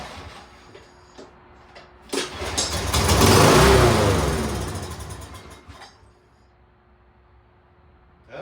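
Lawn mower engine catching and firing up after a brief pull, roaring loudly for a few seconds with a swelling then fading rumble before dying back to near quiet.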